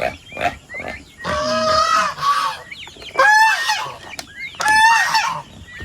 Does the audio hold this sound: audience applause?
no